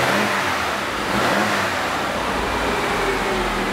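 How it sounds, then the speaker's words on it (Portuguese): Citroën C3 engine revving steadily after its accelerator pedal was replaced, a continuous loud, close roar held without pause and no talking. "E aí, Bruno, dá uma aceleradinha aí"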